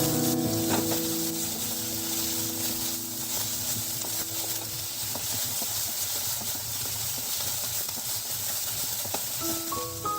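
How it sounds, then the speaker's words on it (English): Diced onions sautéing in a hot pan for a chilli paneer, a steady broadband sizzle and hiss running throughout, with a few brief tonal clinks and a low hum under it; no talk. "adding the diced onions. Stir them once. Saute them for 2-3 minutes."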